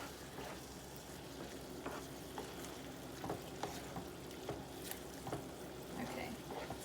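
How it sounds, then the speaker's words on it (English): Bolognese sauce bubbling and splattering in a pan: a continuous busy sizzle with scattered sharp pops and spits throughout, steady and close, with no talking. "once it starts boiling, the sauce might start splattering"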